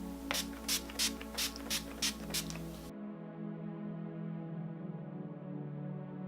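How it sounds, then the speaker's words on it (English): A rapid series of about seven short pumping sprays from a makeup setting spray bottle, evenly spaced, then a quiet hum. "I like to go in again with a setting spray."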